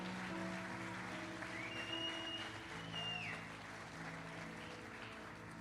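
A congregation applauds at a church service, faint and fairly steady clapping with a low sustained tone underneath and a brief rising whistle-like sound in the middle, tapering slightly toward the end.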